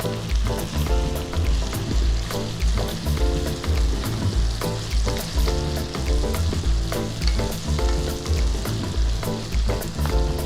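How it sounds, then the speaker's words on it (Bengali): Chopped onion fries in oil after the potatoes for a bhetki chorchori, a dense, loud sizzle that keeps going under rhythmic stirring scrapes, with nobody speaking. "পেঁয়াজ কুচিটা দিয়ে আবার একটু ভেজে নেব।"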